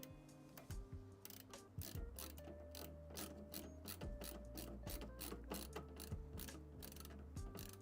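Bolts being driven into an MSI RTX 5080 graphics card, heard as close, rapid ratcheting clicks from a hand tool in quick repeated bursts, with no speech.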